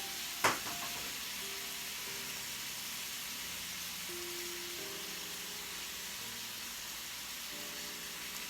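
Seasoned pork sizzles steadily in a pan, a soft, even hiss that runs throughout, broken once near the start by a sharp clink.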